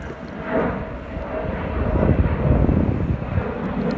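An airplane passes overhead at a golf course in Chile, its broad engine roar swelling and holding steady for several seconds, with some wind buffeting the microphone.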